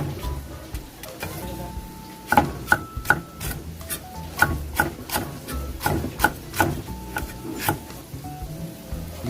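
A knife chops a white onion on a cutting board in a home kitchen, sharp irregular taps sounding close and distinct over a faint background hum.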